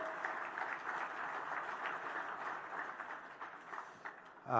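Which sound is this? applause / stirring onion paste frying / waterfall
applause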